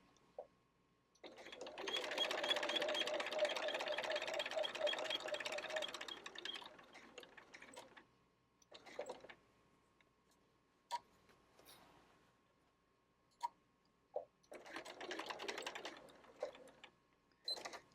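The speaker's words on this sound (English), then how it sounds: "I am going to sew until my needle hits the crease, and then I'm going to turn everything and I'm going to sew right in the crease" Sewing machine stitching quilt binding along a fold crease, a steady continuous run of rapid mechanical stitching for several seconds, then short bursts and pauses, heard up close in a quiet room.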